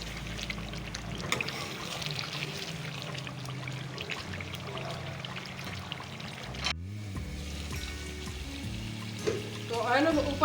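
Shahi chicken curry with yogurt frying in oil in a pot, a steady close sizzle and bubbling that carries on without letting up, with a brief clatter partway through and a louder burst of frying near the end.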